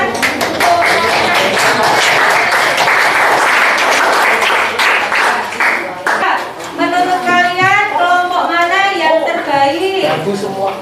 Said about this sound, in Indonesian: Terima kasih kelompok 6, beri tepuk tangan.